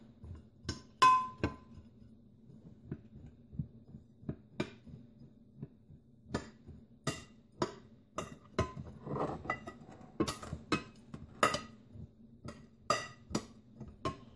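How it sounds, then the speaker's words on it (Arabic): A spoon clinks and scrapes against a bowl in irregular, sharp taps as sugar and nuts are stirred, close and fairly quiet, with no talking. "راح أحركهم بنفس المعلقة اللي بحرك فيها"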